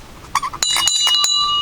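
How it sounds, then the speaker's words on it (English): At Mt Misery Trail in Valley Forge National Historical Park, someone rings a small trail bell, first with a few light taps and then with bright, sustained strikes that leave a clear metallic ring hanging close by. "There's like a little bell here, I guess you can ring."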